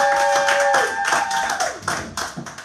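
A church congregation applauds, a dense patter of many hands clapping that thins into scattered, uneven claps toward the end, with a sustained tone fading out early on.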